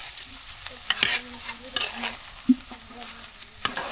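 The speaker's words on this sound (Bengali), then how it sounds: "আরেকটু নাড়াচাড়া করে দেব সুন্দরভাবে" Chickpea biryani with onion and chili stirred in a pot over a village clay stove, soft sizzling under irregular scraping and clinking strokes of a spoon, close and alone.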